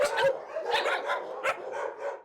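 Many dogs barking together in a crowded street dog shelter in Romania, a dense overlapping chorus of loud, close barks and yips with no pauses between them.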